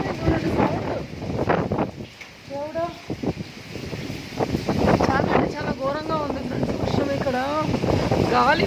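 Strong gusty wind blows through a storm in Hyderabad, rumbling and buffeting the microphone in steady surges while someone talks over it close by.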